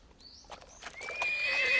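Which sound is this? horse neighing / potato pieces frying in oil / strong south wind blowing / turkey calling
horse neighing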